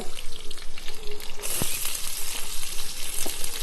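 Dried red chillies, chopped green chillies and crushed garlic sizzle loudly in hot oil, a steady bright crackle that swells midway, with a couple of faint utensil taps.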